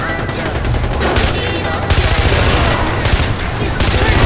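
Gunfire in Far Cry 4 on Ultra settings: dense, loud automatic bursts and shots pile up continuously with booming impacts, while voices shout underneath the fighting.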